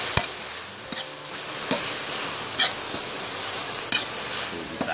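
Beef stir-fried with fermented fish sauce in a hot pan for a spicy Thai-style stew, a steady loud sizzle broken by periodic scrapes and stirring knocks, with no talking.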